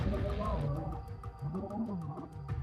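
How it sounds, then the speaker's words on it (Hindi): Lions in the wild in Sabi Sand give deep, rumbling roars and drawn-out growls, loud and close, with a low groaning call rising and falling over a steady outdoor background. "उनकी दहाड़ें और गुर्राहट सुनाई दे रही थी"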